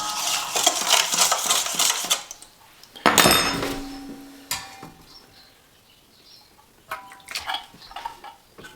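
A spoon clatters and scrapes around a bowl while bread mixture is stirred, with bursts of clinking and a louder knock partway through, then quieter intermittent taps.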